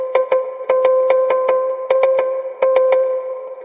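Synth chord with an echo effect in FL Studio, played as a series of sharp, evenly rhythmic stabs with short repeating echo tails, loud and clean with no voices.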